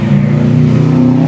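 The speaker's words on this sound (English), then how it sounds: "Oh, I hear a Subaru. How do you know it's a Subaru? I can hear the engine makes the same sound." Subaru car engine, a loud close steady hum with a sustained low drone across the brief moment.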